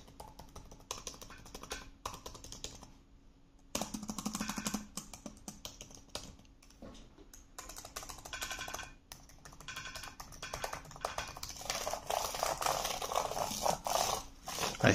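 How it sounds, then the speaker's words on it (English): Keys clatter quickly on the keyboard of a 2019 Razer Blade 13 laptop. The typing comes in bursts of close, clicky strokes with short pauses between them, over a faint steady hum. "this is how the keyboard sounds"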